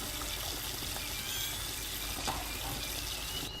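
Water runs steadily from a tap in a room, a continuous close hiss and trickle with no talk over it.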